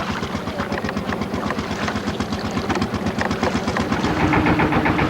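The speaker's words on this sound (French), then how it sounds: "Le matin, il y a beaucoup de bateaux de pêche." Fishing boat engines on a river in Myanmar chug in a steady, rapid rhythm, loud and close, with a throbbing low pulse that holds throughout and swells slightly near the end.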